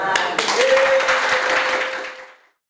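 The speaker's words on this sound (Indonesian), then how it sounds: "Tepuk tangan." A short burst of group clapping swells, holds for about two seconds, then quickly dies away, with a thin steady tone briefly audible over it.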